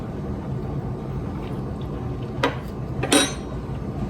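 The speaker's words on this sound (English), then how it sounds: "So I'm going to get a spoon and taste this." A metal spoon clinks twice against a pot of ground beef stroganoff on the stove, two bright short taps near the end over a low steady kitchen hum, with no talking.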